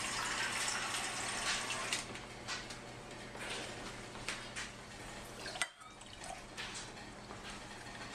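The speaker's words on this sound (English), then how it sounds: "I'm going to put that in the pot, and I'm going to put an equal amount of water" Tap water runs steadily into a cooking pot while sugar syrup is made for feeding bees, a continuous close hiss and splash with a brief break partway through, no voices.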